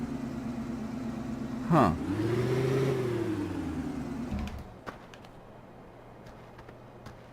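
A lawnmower engine in Farming Simulator 2015 hums steadily, then revs and climbs in pitch, holds, and drops away to a low idle as the engine winds down. A voice briefly speaks over it.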